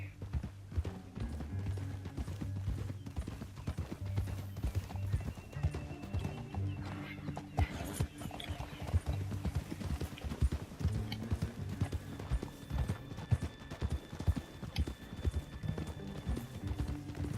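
Steady clip-clop of horse hooves trots along close by in Red Dead Redemption 2, with occasional neighs over a dense rumble of game sound and voices.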